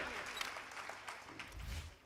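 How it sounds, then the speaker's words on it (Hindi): Audience clapping at a Hindi comedy and satire poetry show, faint and somewhat sparse, with a low thump near the end. "एक बार जोरदार तालियां बजाइए"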